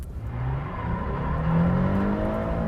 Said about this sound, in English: I'm going to launch the car like an adult,